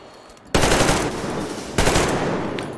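Two sudden bursts of loud, dense gunfire in the video game Metro Exodus, the second starting partway through, each ringing out with a harsh sustained roar and no talking.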